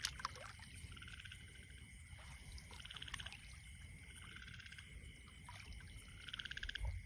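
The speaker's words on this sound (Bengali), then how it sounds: "শুনতে পারতেছি, ঝিঝিমিঝি ডাকে যেইগুলা" Crickets chirp through a quiet, remote night during midnight fishing, their pulsed calls repeating steadily in overlapping bursts over a low, continuous background hum.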